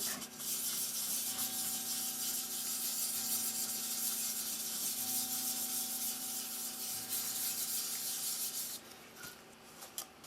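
Plastic on a Toshiba solid state digital flip clock radio is polished with Autosol in circular motions, giving a continuous close rubbing hiss that holds steady for several seconds before it briefly stops.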